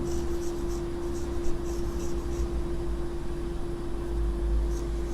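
Marker or chalk scratching on a classroom board during a chemistry lesson, soft continuous strokes over a steady electrical hum, close by and with no speech.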